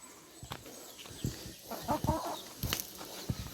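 A chicken clucks in short scattered bursts outdoors at a rural cooking spot, fairly close but moderate in level, amid light handling noises.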